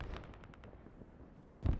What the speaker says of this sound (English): The mortar's coming in on this fob.